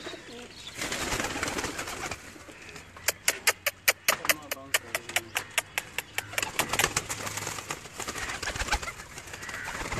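Fancy pigeons kept by a Pakistani breeder coo softly up close, joined by a quick run of sharp rhythmic flapping or clattering in the middle, while someone talks nearby.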